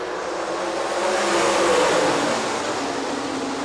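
Sprint cars race in a heat at Rapid Speedway with a loud, continuous engine roar that swells as the pack passes and then eases slightly, no voices.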